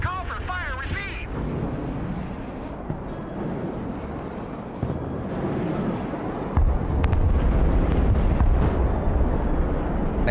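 Artillery fire in Broken Arrow booms and rumbles loudly, a sustained low roar with scattered sharp cracks and a heavier blast surge near the end, and voices are faintly mixed in.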